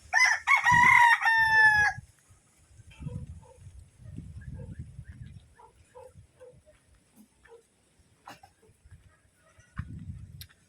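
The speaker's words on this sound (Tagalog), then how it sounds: "may mga manok si kuya dito" A rooster crows loudly once near the start on a backyard farm, followed by quieter clucking and scattered low bumps and rustles.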